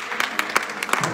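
A church congregation applauding in acclamation of Jesus Christ, with quick, fairly regular hand claps close by, sounding together as a brief, lively round of clapping.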